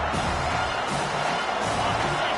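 A home crowd roars at a football game, a broad steady wash of cheering and noise filling the stadium without a break.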